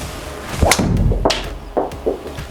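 A few sharp, crisp cracks of a TaylorMade golf driver striking a ball, spaced about half a second apart, close and punchy.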